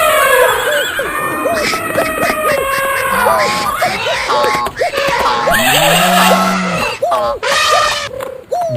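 A chaotic chorus of animal shrieks, whinnies and cries rises all at once as a mixed herd of snakes, scorpions, jackals, foxes, elephants and horses flees through a forest, loud and continuous with overlapping calls.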